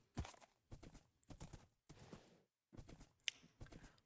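Horse hooves clip-clopping in Minecraft, a quick run of close hoofbeats in bursts with brief pauses between them.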